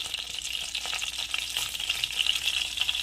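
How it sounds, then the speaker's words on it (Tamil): Mustard seeds and fennel seeds crackle and pop steadily in hot oil, a dense hiss of sizzling with quick spluttering bursts throughout. "கடுகு நல்லா பொரியுது"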